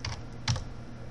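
A few keystrokes on a computer keyboard while launching an app in the i3 window manager on a desktop: two quick clicks, then a slightly louder tap, close and crisp against a faint steady hum.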